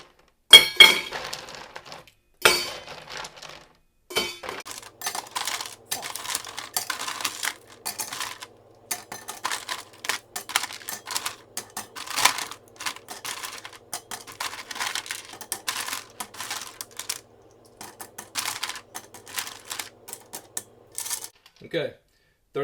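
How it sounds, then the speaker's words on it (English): Thirty pieces of ice drop one after another into an empty RTIC tumbler, making bright clinking rattles in quick irregular bursts. They are close and loud and continue steadily for about twenty seconds. "We'll go ahead and put 30 pieces of ice in the RTIC."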